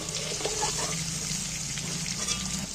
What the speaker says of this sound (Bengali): কপিগুলো আমার লাল লাল করে ভাজা হয়ে গেছে।